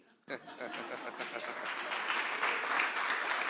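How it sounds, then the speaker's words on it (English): At a conference plenary session, an audience breaks into applause after a brief lull, the clapping swelling quickly and holding at a soft, steady wash, heard from a distance. "You should doubly clap."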